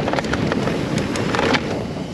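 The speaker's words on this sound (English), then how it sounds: "So windy." Strong wind buffets the microphone with a steady roar and rumble during a mountain bike run on a jump line in Rotorua, New Zealand, continuous and loud with no voices.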